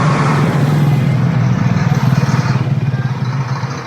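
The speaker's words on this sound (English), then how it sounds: "that's a noisy bus." A noisy bus passes on a Yangon street with a loud, close engine roar and low rumble that swells and then pulses rhythmically as it goes by.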